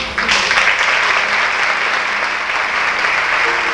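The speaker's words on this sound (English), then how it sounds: "And then came the time when there was a first round of applause." A round of applause at a tap dance recital, dense steady clapping from a full audience that swells in abruptly and holds strong throughout.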